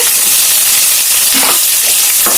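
Finely chopped green chillies and onion fry loudly in a pan, a dense continuous sizzle with scraping stir strokes, close up and with no talk.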